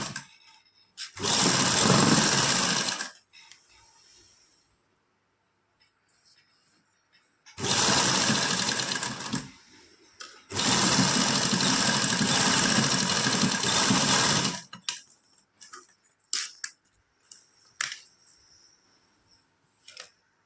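Sewing machine stitching lace onto a plain suit fabric, running in three loud bursts of steady whirring stitching separated by quiet pauses with small handling clicks.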